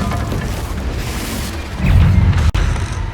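A Confringo fire-blast spell in Hogwarts Legacy lands with a deep, booming explosion after a dense rumble of combat noise, loud and close, then a brief cut and a fading roar; no one speaks.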